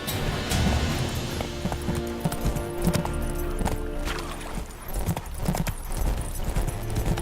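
Roach, a horse in The Witcher 3, gallops in a steady clip-clop of hooves with close, full-bodied footfalls, a brief whinny near the start, and game ambience beneath.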